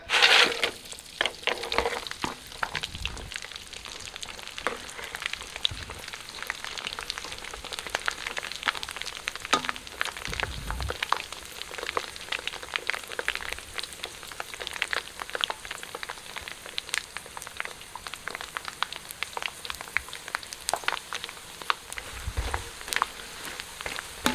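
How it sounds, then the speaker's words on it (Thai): Pork cracklings fry in hot oil over high heat, a close, dense crackle of sharp pops and spits that carries on steadily with no voices. "ทอดกากหมูก็จะใช้ไฟแรงนะครับ ตอนนี้น้ำมันร้อนแล้วก็ใส่เลย"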